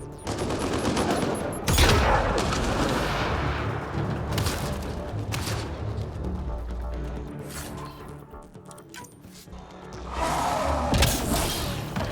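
Sustained gunfire and an explosion from a grenade during a firefight in the video game Mass Effect Andromeda; dense, loud bursts of shooting and booms fill most of the stretch, easing briefly before another heavy barrage.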